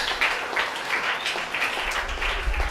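A group gives a round of applause at the launch of a youth explorers club in rural St. Kitts, a moderate, somewhat distant patter of hands that goes on steadily in gentle surges.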